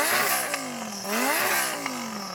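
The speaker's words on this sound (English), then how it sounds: "Can I have a listen to what your exhaust sounds like? Can you rev it up?" A Lamborghini Huracan exhaust is revved, with several loud rising and falling blips of engine tone in quick succession, close by and without talk.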